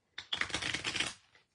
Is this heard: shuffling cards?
yes